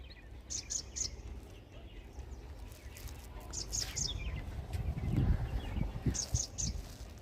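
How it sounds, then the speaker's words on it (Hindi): Small birds chirp in short, bright bursts at intervals over open village fields in India, faint and somewhat distant above a low rumbling background with occasional soft patter. "आपको चिड़ियों की आवाज़ आएगी"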